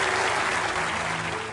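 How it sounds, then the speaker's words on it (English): A studio audience on a TV game show breaks into a thick, continuous wash of applause, steady and full throughout the short burst. "Give them a round of applause."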